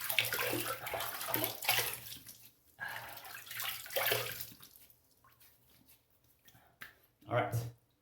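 Water splashed onto a face before shaving, with wet splashing and trickling bursts in a bathroom sink, near and fairly loud, fading into quieter drips before a final splash.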